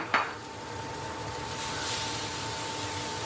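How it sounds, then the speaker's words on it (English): Thick burger patties sizzle in a hot pan with a continuous close hiss that swells slightly midway. A pan or utensil clanks once at the start, and no one speaks. "Ah, nice sizzle."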